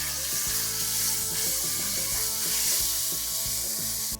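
Ginger garlic paste and turmeric frying in hot oil, giving a loud, close, continuous sizzle with scraping stir strokes, cut off abruptly at the end.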